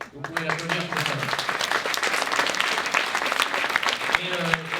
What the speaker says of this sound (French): Vous pouvez l'applaudir pour ça.